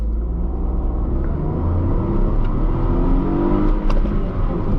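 Tata Tiago hatchback in sport mode during a 0-100 km/h run, engine rumbling loud and close from inside the cabin, revs climbing hard through first and second gear with brief dips at the shifts and no talking.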